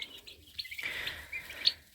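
Young chicks chirping in an indoor brooder pen, a stream of faint, high, thin peeps at close range with no talking.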